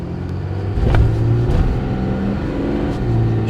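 A Jeep Grand Cherokee Trackhawk, whose overdrive is in question, accelerates on a track with a loud, steady engine roar that swells as it revs, heard from close by with no talk.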